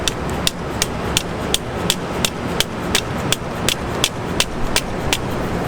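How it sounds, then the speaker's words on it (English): Sharp, evenly spaced blows from a 2 or 3 pound dead blow hammer, about two per second, repeating steadily over a dull background rumble. "That's a 2 or 3 pound dead blow hammer."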